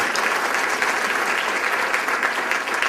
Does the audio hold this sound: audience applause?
yes